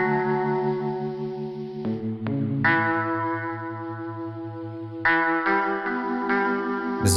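A guitar riff for a Lana Del Rey-style track in Ableton Live, run through distortion and reverb from the RC-20 plugin, with sustained, ringing chords changing a few times across the phrase and a spacious, echoing tail.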